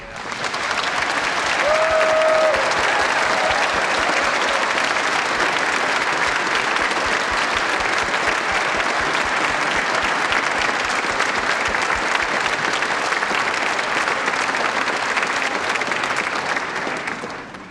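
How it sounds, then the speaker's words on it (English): Sustained, loud concert-hall applause for a Year 7 school choir at a spring concert in De Montfort Hall, dense clapping from a large audience holding steady for nearly eighteen seconds. "if we could just have an extra round of applause for our Year 7 choir."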